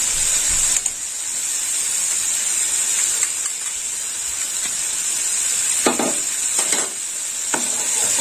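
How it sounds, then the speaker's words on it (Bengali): Poppy seed paste sizzles steadily in hot oil in a pan for tangra posto, a close, constant hiss broken by a few spatula scrapes near the end. "পোস্তটা একটু ভেজে নেবো"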